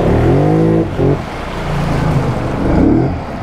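A 2019 Polaris Highlifter 850 ATV engine loud and close, catching with a rough harmonic rev that drops, then settles into a steady idle before revving up again near the end.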